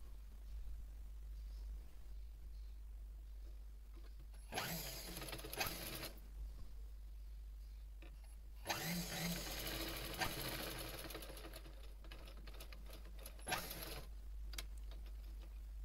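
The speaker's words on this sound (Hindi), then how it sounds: "अब हम इस साइड भी सेम इसी तरह से सिलाई लगा लेंगे।" Sewing machine running in bursts while stitching a dart on a designer top, with short loud runs of rapid stitching separated by quieter pauses and handling noise.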